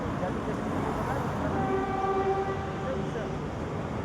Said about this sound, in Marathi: याने हॉर्न मारला तेव्हा तो हॉर्न मारता याला.